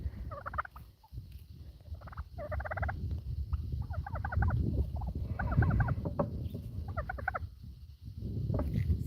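A turkey gobbling repeatedly in short rattling bursts over steady low background rumble, moderately close, with gaps between calls.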